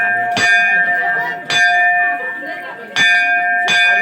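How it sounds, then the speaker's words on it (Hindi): A bell rings out four times in clear, resonant strikes at a Kabir math in Nadia, each ringing tone decaying before the next, with a quiet background between. "बहुत सुंदर घंटी के आवाज बहुत अच्छा लगा"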